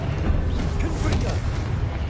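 A fiery Confringo spell blast in Hogwarts Legacy rumbles as a dense, booming explosion that roars continuously for about two seconds, with a voice speaking over it.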